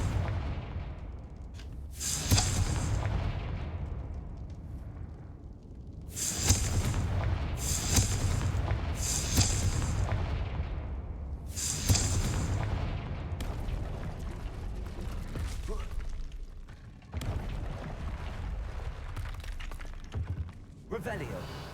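Blasting spell explosions in a Hogwarts Legacy fight, a string of loud booming bursts, several in quick succession, over continuous game noise with a voice talking throughout.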